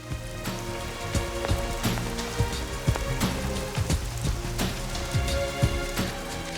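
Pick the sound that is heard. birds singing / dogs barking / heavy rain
heavy rain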